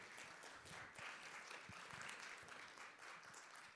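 Audience at a folk concert gives a round of applause, a steady patter of many hands clapping together, fairly faint and distant, lasting several seconds without speech.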